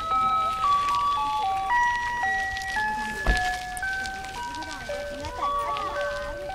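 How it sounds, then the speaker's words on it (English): A novelty ice cream truck or van chimes its jingle of stepped, sustained tones that shift pitch every half second or so, fairly loud and continuous, with one sharp knock partway through and background noise throughout. "Okay, bye, Mr. Ice Cream Truck."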